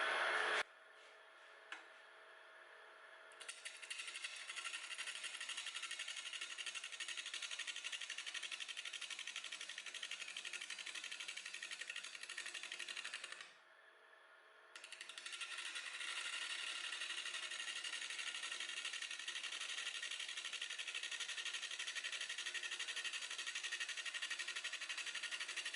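A wood lathe turns a stabilized boxelder burl cast with epoxy at about 475 RPM, giving a steady, loud whirring hiss with a broad bright edge that runs almost continuously, with one brief drop near the middle, and no talking.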